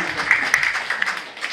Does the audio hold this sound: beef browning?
no